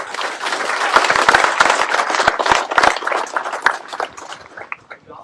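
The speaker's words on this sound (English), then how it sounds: "Please give her a round of applause." A crowd at a military change of command ceremony breaks into sustained applause, dense clapping that holds steady for several seconds and thins slightly toward the end, with no voices over it.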